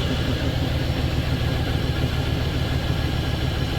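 A ZIL truck engine idles steadily after warming up, a constant low, rumbling drone that holds at an even level throughout with no speech over it.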